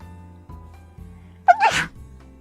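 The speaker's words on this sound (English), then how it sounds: "Oh no, I have to sneeze." A single hearty sneeze bursts out close to the microphone after a quiet, steady background hum, sharp and loud, then fades.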